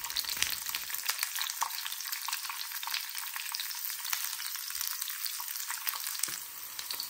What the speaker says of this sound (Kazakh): Бұл болгарскийімізді осылайша қызып тұрған сұйық майда қызартып қуырып алуымыз керек.